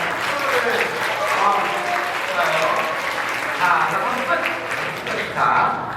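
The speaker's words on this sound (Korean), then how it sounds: "박수를 해줍시다" Youth group at a church winter retreat breaking into sustained, dense applause that holds steady throughout, with a voice briefly speaking over the clapping.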